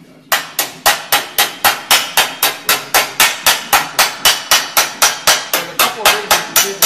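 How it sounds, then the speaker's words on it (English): A smooth hammer strikes hot metal on an anvil over and over, drawing it out in a fast, steady series of about twenty sharp, loud, ringing blows close by. "So I'll just pull it out with a smooth hammer rather than chopping it out with a more aggressive chiseling hammer."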